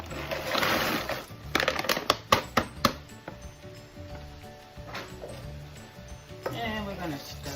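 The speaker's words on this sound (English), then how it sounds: "I also have some frozen peppers and onions. So I'm just going to saute this up." Frozen peppers, onions and gardein crumbles sauteing in a pan, with a soft sizzle beneath a series of sharp clacks and knocks of utensils against cookware.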